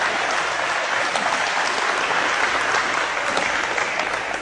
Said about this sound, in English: There, now you can really applaud.